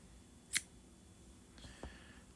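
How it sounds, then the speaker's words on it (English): A single quick snip of scissors cutting a yarn tail from crochet work, sharp and close, followed by faint handling noise in a quiet room. "We're going to cut a tail off."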